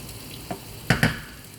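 Onions with tarragon fry in a pan with a soft, close sizzle, followed by two quick stirring clatters near the end.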